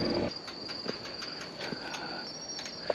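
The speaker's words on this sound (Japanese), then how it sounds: "松虫。" Pine crickets (matsumushi) chirping by a roadside, a faint, thin, high-pitched trill that repeats steadily over quiet outdoor ambience, with a few soft knocks and a brief low rumble at the start.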